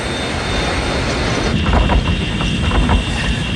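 A continuous loud roar from a United Airlines Flight 811 airliner in flight during a reenactment, its number 3 engine disintegrated, with rougher rumbling bursts swelling partway through.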